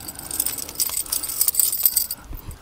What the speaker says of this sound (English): I'm going to put these keys on this same keyring.